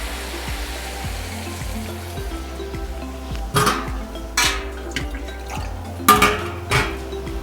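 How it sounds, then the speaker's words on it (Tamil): Water being poured into a pan of Chettinad mutton pepper fry, a steady sizzle and hiss with a few louder bursts of splashing and clatter of the pan midway, no talk. "இதை வந்து தண்ணி ஊற்றுறோம்"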